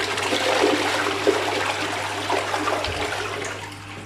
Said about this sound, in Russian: Проверим, как работает унитаз.